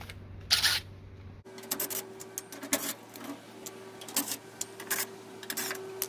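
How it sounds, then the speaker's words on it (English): Screws come out of the control panel of a Maytag Bravos XL washer, heard as close, crisp clicks and short whirring ticks of a screw driver in an uneven series, with a faint steady hum behind. "we're just going to be taking out 5 screws"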